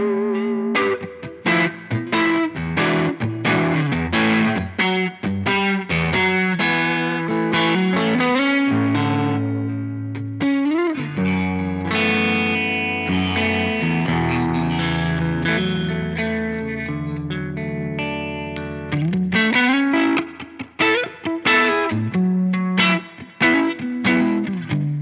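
An electric guitar runs through a Line 6 Catalyst 60 amp with the gain set halfway, giving a crunchy, effects-laden tone of strummed chords and sustained ringing notes, loud and continuous with no talk.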